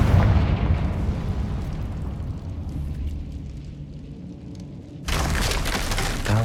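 The Confringo fire spell from the Hogwarts Legacy video game goes off as a loud, rumbling explosion that fades through a long roar, then a sharp burst of bright crackling debris near the end. No one speaks.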